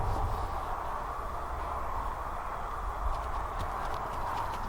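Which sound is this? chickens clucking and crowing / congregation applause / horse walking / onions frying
horse walking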